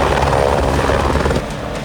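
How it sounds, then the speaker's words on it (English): A rescue helicopter roars steadily nearby in the Grand Tetons mountains at about 11,000 feet, its rotor thrum loud and continuous before easing slightly toward the end. "The helicopter came"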